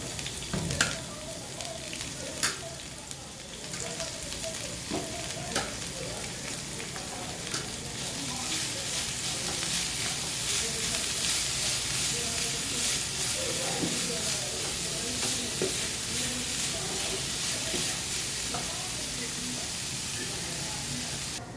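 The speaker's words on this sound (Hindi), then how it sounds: "अब इसमें डाल दूँगी बंद गोभी।" Shredded cabbage hits a hot wok for restaurant-style vegetable fried rice, with a few early clatters and then a loud, constant frying hiss and sizzle that fills the rest of the time.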